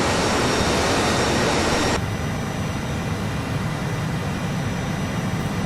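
Harrier jump jet engine in a flight simulator, a loud steady roaring whine with a broad hiss that drops in intensity after about two seconds, then settles into a continuous lower rumble.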